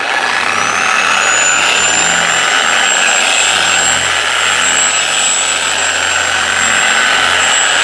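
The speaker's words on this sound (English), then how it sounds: "I'm going to set my machine on speed 2 just to be able to spread out the product." Car waxing polishing machine running on speed 2 to spread product, a steady motorized whir with a high sustained whine, loud and close, holding constant throughout.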